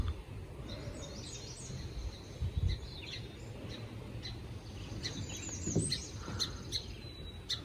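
Sparrows chirp in scattered, busy bursts against a soft outdoor background, with a few louder squawks near the middle.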